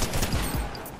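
Rapid automatic gunfire from weapons in the video game Fortnite rattles loudly in a dense burst, close and continuous for about a second, with no talk over it.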